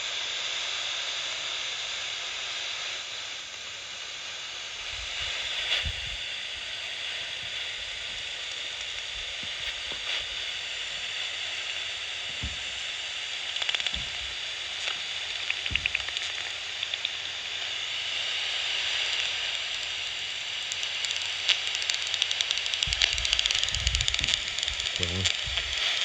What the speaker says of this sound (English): Lots of feeding. All that noise is feeding noises.